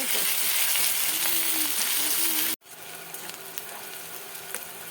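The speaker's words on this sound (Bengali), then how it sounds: "পেঁয়াজটা ভাজা হয়ে গেছে, এবার আমি এতে আদা রসুনটা দিয়ে দেবো।" Onion frying in a pan for a spicy whole lote fish curry, with ginger and garlic added. A steady loud sizzle breaks off abruptly at the midpoint, then resumes at a lower, crackling level with no talk.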